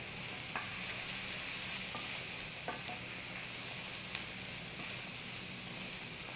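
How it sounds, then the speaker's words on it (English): Parboiled brown rice and softened onion sizzle and fry in oil in a pan, a steady close hiss broken by occasional scraping knocks of a spoon as the rice is stirred, with no talking. "When the onion softens a bit, we dump in the parboiled brown rice."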